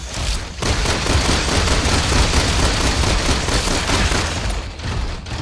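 Dense, continuous gunfire in Resident Evil 6, a loud rapid barrage that keeps up almost without pause after a brief quiet start.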